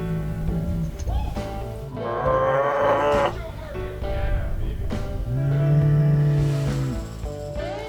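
Two cows moo in long, drawn-out calls, one near 2–3 seconds and a deeper one around 5–7 seconds, loud and close against a steady outdoor background during a hunt from a blind.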